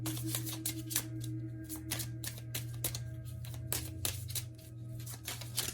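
Tarot cards being shuffled by hand, a run of quick, crisp riffling flutters repeating in short bursts over a low steady background hum, close and fairly quiet.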